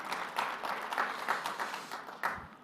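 An audience at a congressional city conference general session breaks into applause, a moderate wash of many hands clapping that swells and fades over a few seconds in a large hall.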